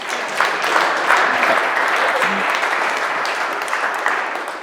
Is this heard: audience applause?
yes